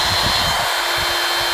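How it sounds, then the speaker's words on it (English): A Ryobi 18-Volt ONE+ cordless EVERCHARGE hand vacuum, model P714K, runs with a loud, steady motor whine and airy rush, heard up close throughout with no talking. "It's still a vacuum. It's still loud as far as that goes."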